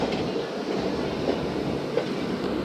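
A train rumbles and clatters at a railway station in Pakistan on the Multan to Lahore line, a loud, steady wash of wheel and carriage noise with faint rhythmic clicks.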